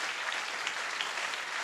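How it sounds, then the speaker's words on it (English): A church audience claps hands together, a dense, continuous wash of applause from many people, steady and fairly faint, with no distinct voices on top. "Clap your hands if you hear what I'm saying."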